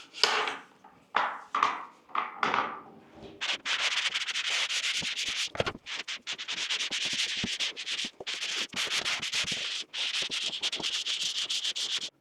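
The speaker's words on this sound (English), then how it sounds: "now we're gonna start going over the ceiling and making it nice and smooth so we can start to add our primer and our paint" Sandpaper scrubs across a ceiling to smooth it after popcorn texture removal, a few short separate strokes at first, then a long, loud, continuous abrasive rasping with brief pauses.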